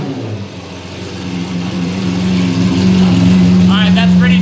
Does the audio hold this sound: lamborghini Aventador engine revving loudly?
yes